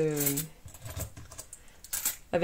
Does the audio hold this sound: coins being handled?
yes